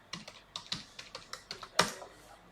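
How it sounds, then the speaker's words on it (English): Keys on a computer keyboard tapped in a quick, uneven run of about a dozen light clicks, ending on a heavier keystroke like an Enter press, close and fairly quiet. "Let's type the password,"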